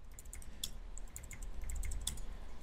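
Password command typed on a computer keyboard: a quick, irregular run of close, crisp key clicks over a quiet room hum, with no talking.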